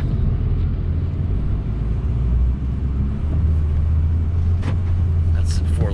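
A 2004 Ford F350 King Ranch pickup truck crawls along in four-wheel low, giving a steady, loud, deep engine rumble and drivetrain drone heard close up from inside the cab.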